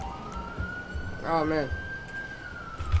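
An ambulance siren in a video game roleplay holds a steady wailing tone throughout, moderately loud, while a person briefly speaks over it.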